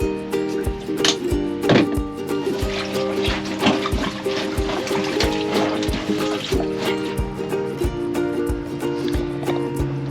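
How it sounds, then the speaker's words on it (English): Laundry is washed by hand in a sailboat's shower cubicle, with steady splashing, trickling and dripping water over a continuous low hum and a regular faint thumping, close and moderate in level. "I'm trying to do the washing."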